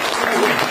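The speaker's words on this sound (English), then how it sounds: "give these guys a huge round of applause" A convention crowd bursts into loud, dense applause in a brief burst of hand claps.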